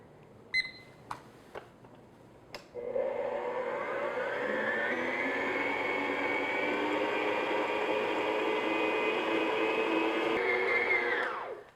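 A stand mixer kneads cinnamon roll dough, starting after a few clicks and knocks and then running as a steady, moderately loud motor whine with a hum, before winding down near the end.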